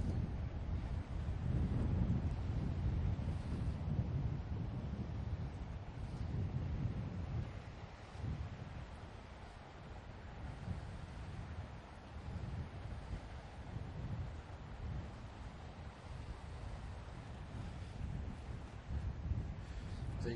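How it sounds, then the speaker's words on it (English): Strong coastal wind at Point Lonsdale lighthouse buffets the microphone in a continuous low roar with gusty swells, surf faintly beneath it and no clear speech. "When we started out here, it was nowhere near this windy."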